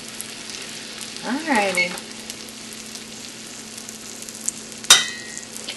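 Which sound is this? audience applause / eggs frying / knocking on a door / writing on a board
eggs frying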